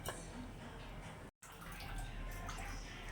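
Water pours and trickles into a grinder jar holding coconut and onion, a quiet continuous splashing broken by a brief cut of silence.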